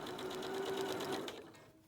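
A sewing machine stitches dress panels a centimetre from the edge, one short, close, even mechanical whir with a faint hum that fades at the end.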